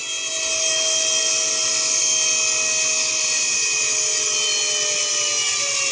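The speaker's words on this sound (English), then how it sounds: "you heard the motor bog down" Power tool motor running off a weak jump-pack battery in a workshop bench setup, a steady loud high whine held for several seconds without any clear pause.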